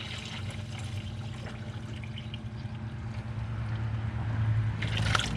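Steady trickle of hydraulic fluid and water draining and splashing from a Farmall 460 tractor, continuous and close, growing slightly louder toward the end with no talking.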